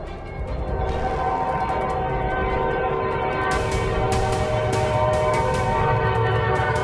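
Train approaching a railroad crossing where a semi-truck sits stuck on the rails, with the sustained blare of its horn sounding loud and continuous over the rumble of rolling wagons and a brief bell-like ring.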